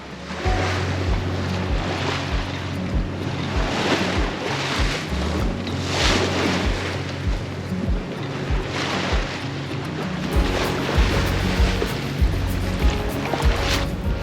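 A sailboat with a double-reefed main and working jib beats upwind in 17 to 18 knots off Greece, with loud continuous wind roar on the microphone and waves slapping and rushing against the hull.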